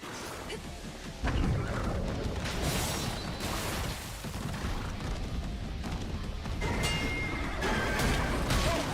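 A horse neighs amid loud, dense combat noise in the video game Stellar Blade, with crashing and mechanical clatter continuing throughout.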